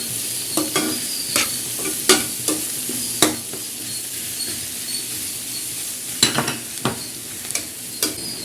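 Food fries in a pan with a low, steady sizzle while a utensil stirs it, giving scattered sharp scrapes and taps close by.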